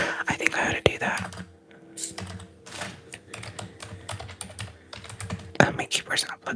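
Someone types on a computer keyboard in uneven bursts of close, crisp key clicks. Soft whispering passes over and between the bursts.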